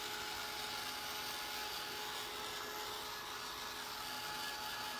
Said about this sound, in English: It's called Ranger Heated Craft Tool. It is so much quieter than the hair dryer that I've been using